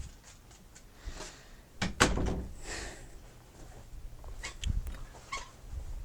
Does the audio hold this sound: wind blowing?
no